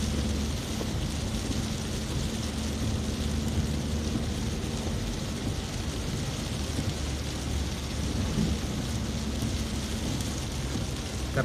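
Steady rain pours onto a town street in Kuala Kurun during a storm, a continuous broadband hiss with a low rumble underneath that may be distant thunder, no voices present.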